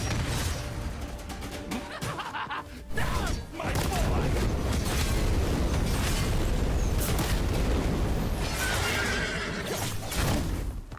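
A horse neighs loudly in the video game Where Winds Meet, a long whinny ringing over dense, booming battle noise and clattering effects that continue throughout.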